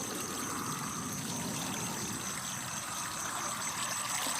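Steady flowing water, such as a stream or trickle running continuously, fills the whole stretch at moderate level with no voices.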